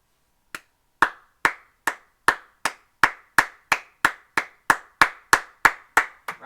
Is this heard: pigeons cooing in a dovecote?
no